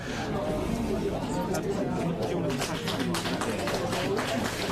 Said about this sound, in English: As they cheer their heroes onto the pitch.